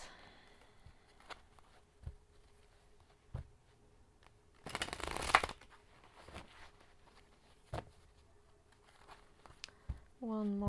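Quick riffling shuffles of a tarot deck come in short bursts, with one longer dense flurry in the middle, close and fairly quiet against a still room.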